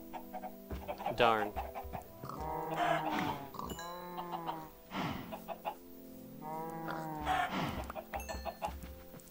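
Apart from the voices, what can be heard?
chickens clucking in modded Minecraft video game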